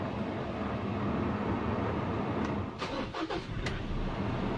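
A 2017 Ford Ranger XLT with a 2.2 diesel engine and manual gearbox starting up: a short cranking burst that catches into an idle, heard close over steady background noise, with no voices.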